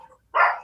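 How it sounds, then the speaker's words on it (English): A pet dog gives a single short, fairly loud bark at close range in a home, following a brief stretch of quiet with faint background noise. "dogs just bark and bark and bark"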